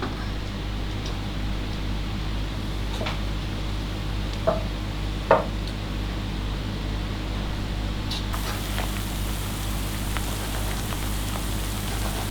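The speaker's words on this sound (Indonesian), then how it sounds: "kita goreng dengan minyak panas dan api sedang" Potato chips fry in hot oil over a medium flame, giving a steady, dense crackling hiss throughout with a couple of sharper pops, no voices.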